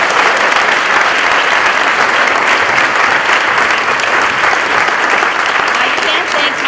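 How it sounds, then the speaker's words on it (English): Sustained, dense applause from an audience honoring judges of the New York State Housing Court, steady and loud throughout without a break. "Please join me in giving them another round of applause"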